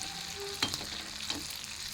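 Malpua frying in oil in a pan as more oil is added around the side: a soft, steady sizzle broken by a few sharp crackling pops, close up.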